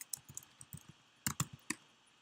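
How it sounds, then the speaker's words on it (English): Soft, close clicks of typing on a laptop keyboard, a short irregular run of keystrokes with a brief pause before a second quicker cluster, quiet and alone. "You can type your name."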